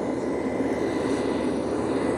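Airplanes take off beyond an airport apron and maintenance area, making a continuous, loud, broadband engine roar that holds steady throughout.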